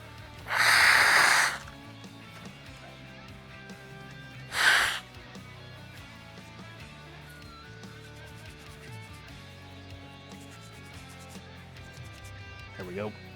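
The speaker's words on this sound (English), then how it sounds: "I need to blow my nose again real quick." A person blows their nose twice, a long loud honking blast followed by a shorter one a few seconds later, close by in a quiet room with a faint sniff near the end.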